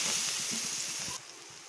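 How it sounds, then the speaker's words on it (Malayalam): Sliced onions hit hot oil with a loud, close, hissing sizzle that lasts about a second before dropping abruptly to a quieter simmer. "നമുക്ക് സവോള ഇട്ട് കൊടുക്കാം."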